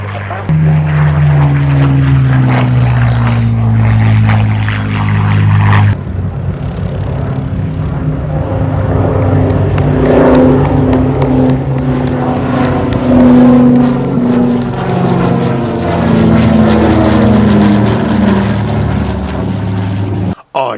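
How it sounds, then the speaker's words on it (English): A Supermarine Spitfire warplane passes overhead at an air show, a loud droning propeller engine roar that swells and shifts in pitch as it flies by, with crowd noise beneath it. "as the Spitfire passes overhead"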